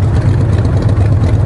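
A custom motorcycle engine idles at a red light, a loud, steady low rumble with a slightly uneven throb close by.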